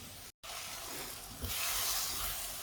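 Ripe bananas fry in a pan while being stirred, giving a continuous close sizzle that cuts out for a split second, then returns a little brighter and louder.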